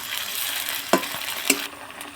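Chopped ginger and garlic go into hot oil in a frying pan, producing a steady sizzling hiss punctuated by two sharp clacks of a utensil against the pan.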